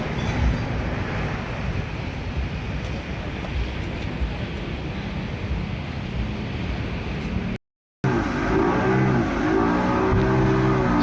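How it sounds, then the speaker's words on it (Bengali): A speedboat engine on the sea off Pattaya, Thailand, a steady loud roar with wind and rushing water throughout, broken by a brief silent gap before the engine noise resumes. "সো অবশেষে সিও জন্য স্পিড বোটে করে যাত্রা শুরু করেছি"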